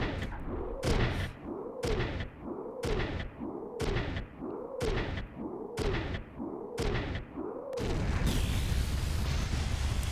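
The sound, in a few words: explosion on a base in the video game Front Mission 3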